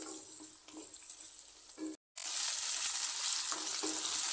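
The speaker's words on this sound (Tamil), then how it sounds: "இப்போ இதில் ஒரு கொத்து கருவேப்பிலை சேர்க்குறேன். ஒரு 2 minutes நல்லா வதங்கட்டும்." Carrots, potatoes and curry leaves sautéing in a pan for a chicken kuzhambu, a soft sizzle that cuts out for a moment and then returns louder and brighter, with occasional stirring scrapes and no talk.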